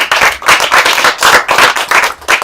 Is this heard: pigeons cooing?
no